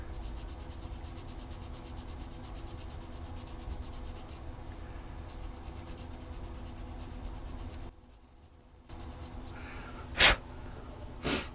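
A knife scraping a cane double reed toward its middle to thin the edge, a steady close rasping rub that stops briefly, then resumes, with a sharp scrape burst near the end.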